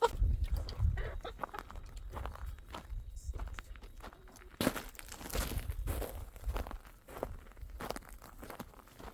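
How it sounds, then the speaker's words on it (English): Backyard chickens settle onto their roosts toward evening, giving soft intermittent clucks amid footsteps and rustling nearby, with a person talking now and then. "Chickens are roosting."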